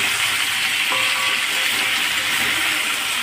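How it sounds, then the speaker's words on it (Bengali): Drumstick stems frying with spices in a pan for a thin vegetarian curry, a dense, continuous hiss and sizzle close up with a faint clink of a spoon. "ডাঁটাটা নিয়ে দিয়ে দেবো। আরও 2 মিনিটের মতো নেড়ে নেব।"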